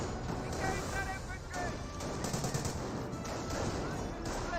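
Rattling gunfire in a Company of Heroes 1 battle, with a Bren carrier pushing toward Panzer Grenadiers behind heavy cover: bursts of machine-gun and rifle fire crackle continuously with loud impacts, mixed with engine rumble.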